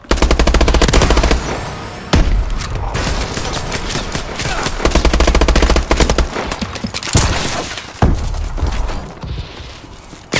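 Loud automatic gunfire in Call of Duty: Advanced Warfare, rapid continuous bursts with brief gaps between them, close and dominant throughout.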